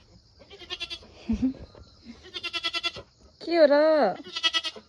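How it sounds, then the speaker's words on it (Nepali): Goats bleat repeatedly in a goat shed on a farm in Dhading, Nepal, their quavering calls loud and close. A person speaks briefly between the bleats. "हेर्नु है हाम्रो बाख्राहरू"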